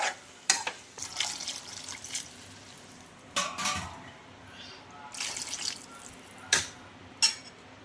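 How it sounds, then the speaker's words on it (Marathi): Water poured into a dal and vegetable curry in a pot, several separate splashing pours and drips close by, with quiet pauses between them. "तर आपण यामध्ये पाणी घालणार आहोत आता।"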